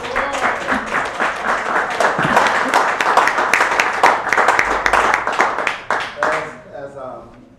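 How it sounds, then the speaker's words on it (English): Audience applause at a live business talk show event in St. Louis County, steady dense clapping that swells and then tapers off toward the end, with some voices mixed in. "Let's give a round of applause, Dr. Salam."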